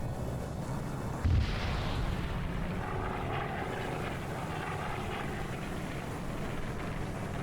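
A bomb goes off in an Arma 3 World War II multiplayer battle: one deep, heavy blast near the start, followed by a sustained rumbling drone like aircraft engines overhead.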